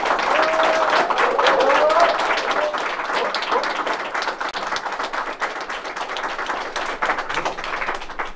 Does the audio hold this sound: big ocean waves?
no